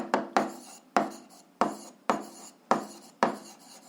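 Hand writing an equation with chalk or a marker on a board, seven sharp strokes at a steady pace, each starting with a crisp tap and trailing off in a short scrape, close and clear with no talk.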